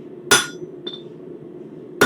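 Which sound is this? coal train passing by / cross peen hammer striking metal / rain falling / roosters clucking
cross peen hammer striking metal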